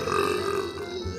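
A long, loud, throaty burp from a woman rumbles steadily at close range for over a second, alone with no other talking.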